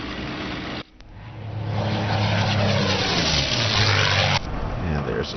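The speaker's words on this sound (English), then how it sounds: "The aircraft's buffeting." A LaGG-3 fighter in the IL-2 flight sim shudders toward a stall, its propeller engine drone swelling into a loud, rough roar of buffeting after a brief dip, then easing off near the end.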